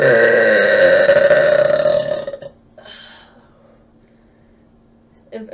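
A woman lets out one long, deep, rumbling burp that lasts about two seconds and trails off, followed by quieter breathy sounds and a short faint noise near the end.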